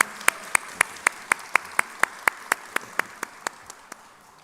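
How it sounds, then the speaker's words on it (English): Applause at a celebrity event with actor Ram Charan, heard mainly as one sharp, close clapper striking in an even, rhythmic beat over a faint background of other hands, tapering off toward the end. "give a huge round of applause for both the OGs here"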